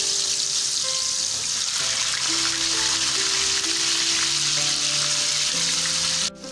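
Potatoes fry in oil in a silver pan with a pinch of salt, sizzling loudly and continuously up close, with faint scraping and tonal clinks from stirring underneath.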